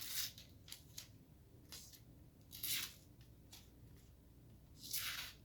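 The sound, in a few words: cutting with Dollar Tree multi-tool scissors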